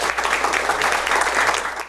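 An audience at a Korean book-talk concert applauds to welcome the guest lecturer, a dense, steady clapping from many hands filling the room for the whole stretch before easing slightly at the end.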